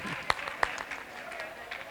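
An audience at the Layalpur Punjabi poetry fair in February 2020 claps, with a couple of sharp claps standing out among a light scatter of applause under murmuring crowd noise.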